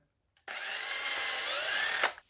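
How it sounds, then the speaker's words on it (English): Little drill bit boring a pilot hole during a repair: one short, steady high-pitched whine lasting under two seconds, starting abruptly and cutting off with a brief rise at the end, fairly quiet and alone. "Little tiny drill going deep like that."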